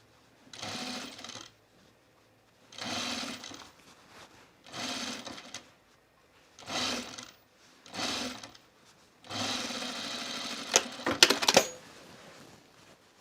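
A sewing machine stitches a seam on a top in six short bursts of whirring, each a second or two long with pauses of handling between, the last run longer and ending with clicks.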